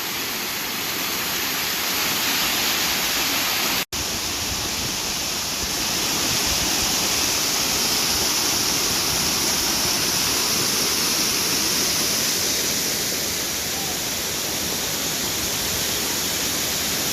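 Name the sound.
waterfall about 25 feet tall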